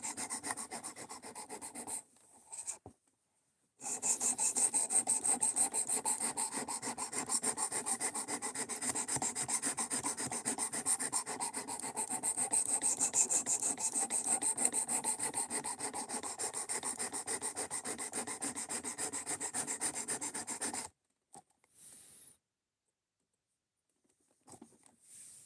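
Knife blade drawn across a Work Sharp sharpener for a very fine, highly polished edge, a steady close rasping rub lasting about seventeen seconds with brief strokes before and after, no talking.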